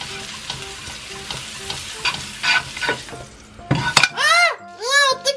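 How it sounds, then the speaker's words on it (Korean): Butter melting in a pan for Toowoomba pasta hisses and sizzles with utensil clinks nearby, then a voice cries out in sharp, rising exclamations near the end. "버터를 녹여줄게요."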